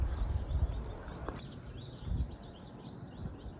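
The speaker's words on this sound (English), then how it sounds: "I'm sure you've heard all of the birds" Several birds chirp and twitter faintly in the distance over a low outdoor background rumble, with no voices.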